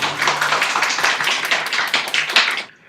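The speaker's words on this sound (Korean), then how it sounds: "박수로 우리 축복하도록 하겠습니다." A church congregation claps during a Sunday morning worship service, a dense, close, loud patter of many hands that runs steadily for over two seconds and then stops abruptly.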